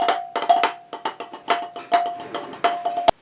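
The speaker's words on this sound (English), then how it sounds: "now I'm good to go to play some bass drum" Repeated strikes on a bass drum practice pad mounted with a clamp, a dozen or so short, sharp thuds in an uneven rhythm, close and fairly loud, with a steady faint tone ringing beneath them.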